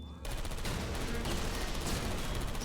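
Turret fire in Portal Stories: Mel rattles in a dense, continuous burst of rapid shots that runs for a couple of seconds, moderately loud and unbroken.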